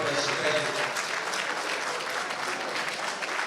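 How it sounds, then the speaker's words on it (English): A large audience applauds steadily at a formal political event attended by a minister and the President, with dense, sustained clapping that fills the room throughout. "I believe the Honorable Minister is that for a sound round of applause."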